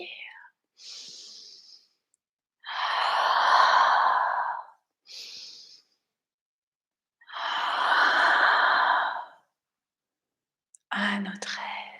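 Two long, deep exhales during a yoga breathing exercise, each a few seconds long and close to the microphone. Shorter, softer breaths come between them.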